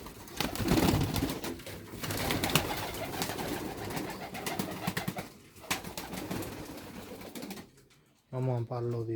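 Domestic pigeons cooing in a loft, with a dense, busy wash of calls and rustling. Voices are heard alongside, and near the end there is a brief silent gap before the sound returns.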